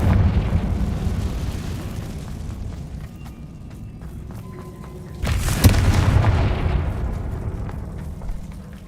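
Spell explosions from Bombarda and Confringo in Hogwarts Legacy, a rumbling boom that fades, then a sharp loud blast about halfway through with a lingering roar tailing off.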